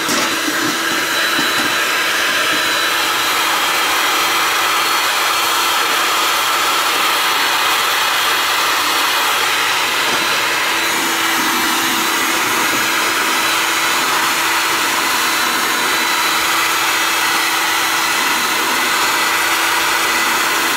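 Heat gun blows a steady, loud, continuous roaring hiss while desoldering components from a circuit board, unbroken for the whole stretch with no speech.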